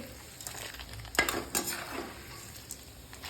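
Chana dal and flour stirred in a pan for Puli Upma, with quiet spoon scrapes and light clinks against the metal over a faint low sizzle.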